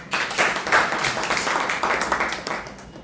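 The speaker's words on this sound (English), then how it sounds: "Let's give a big round of applause." Clapping from a Toastmasters club audience after thanks to the meeting's role players, a dense patter of hands that swells and eases in waves over a few seconds.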